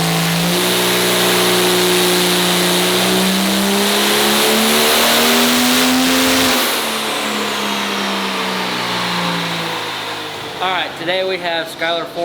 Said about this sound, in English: 2007 truck on the dyno that he has raced in 670 index for the last couple of years